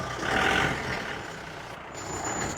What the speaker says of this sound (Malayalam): ചെറിയ വണ്ടി ഉണ്ട് കേട്ടോ, മിനി ബസ് ഉണ്ട്. ഡാർജിലിംഗ് സിലിഗുരി ബസ് അത്.